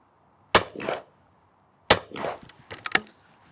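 Two sharp shotgun blasts ring out at clay targets, close and punchy, each followed by a short decaying echo, with a faint third report trailing near the end.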